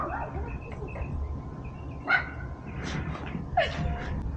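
A couple of short, sharp dog barks pop out of steady outdoor background noise, a few seconds apart and not very close.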